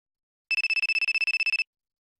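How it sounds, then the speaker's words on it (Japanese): A telephone rings in a Minecraft prison-escape game, one continuous burst of rapid, evenly pulsed electronic trilling that stops abruptly after about a second, alone against silence. "電話か。"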